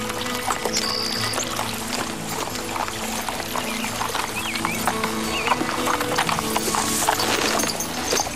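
Horse hooves clip-clop with a whinny amid running water and outdoor noise, moderately close, continuing throughout.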